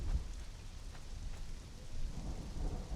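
Steady rain and low rumbling thunder in the video game Conan Exiles, a continuous wash of falling rain under a deep, rolling rumble with no speech.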